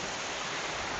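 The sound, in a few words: waterfall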